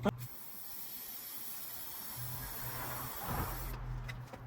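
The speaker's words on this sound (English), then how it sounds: "I need to spray the side because I kind of forgot to do that before." A soft, continuous hiss of a spray paint can runs for several seconds at low volume, then cuts off near the end.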